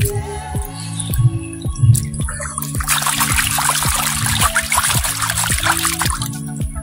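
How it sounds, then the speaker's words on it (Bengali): Cut hilsa fish pieces are rinsed in water, with close trickling and light splashing that grow steadier midway, under steady rhythmic background music. "এবার আমরা মাছটাকে ধুয়ে নেব।"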